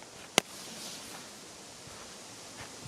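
A Volt 3-3 XP1017 Triplex firecracker gives one sharp, loud bang near the start, then dies into faint outdoor hiss with no further report.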